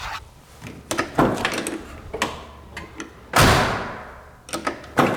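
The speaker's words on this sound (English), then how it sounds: "Doors open and close very nicely." Car doors on a 1972 Monte Carlo are worked open and shut, giving a string of clicks and latch knocks before one loud, full slam midway and more clicks after, close to the microphone with no talking.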